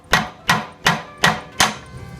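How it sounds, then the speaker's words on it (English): Five sharp metallic taps from a hammer striking a Jeep Cherokee tie rod at an even pace, each ringing briefly before the next, close and fairly loud with no voices. "with your hammer give it a tap tap"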